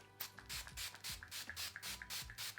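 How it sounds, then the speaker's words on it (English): A series of short, close hissing sprays of face mist, each a soft burst, repeating in a steady rhythm with brief pauses between. "I'm just going to spray a little bit on my face."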